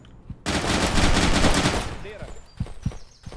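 Gunfire in the online multiplayer game Intruder, a sudden loud burst of rapid automatic fire lasting over a second, fading into a few scattered single shots and clicks.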